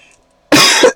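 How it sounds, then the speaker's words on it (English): A man with a slight sinus infection gives a couple of harsh, throaty coughs close to the microphone, a first long burst followed by a shorter one after a brief pause, with quiet hum before. "Apologies for the throaty coughing here."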